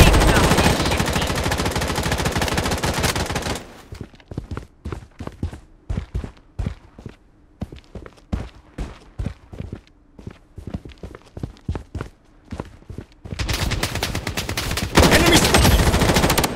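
Gunfire in the Project BloodStrike video game, a long stretch of rapid sharp shots fired in quick rhythmic succession, framed at the start and end by dense, loud in-game action and noise.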